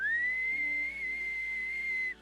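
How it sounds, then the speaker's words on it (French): A person gives one long, steady, clear whistle at a tavern door, a single sustained note held for about two seconds before it stops abruptly. "je siffle"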